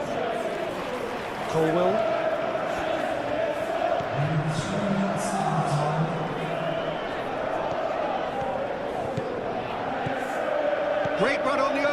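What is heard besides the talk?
stadium crowd reacting in PES 21 video game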